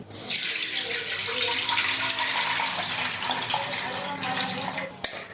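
Water runs and splashes steadily as soaked soybeans are rinsed to wash away their husks, a close, continuous stream with a sharp knock near the end.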